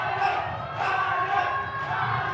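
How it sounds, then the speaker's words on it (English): Rugby supporters at a first division final cheer and chant together, a dense continuous crowd roar with swelling rhythmic voices, loud and sustained. "Here we have the Lions cheering, lighting up the field with their chants."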